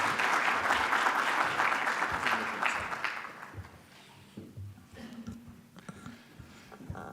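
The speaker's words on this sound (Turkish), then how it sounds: "Lütfen alkışlarınızla." An audience at an opening ceremony applauds, loud at first and then thinning out into scattered claps and rustling.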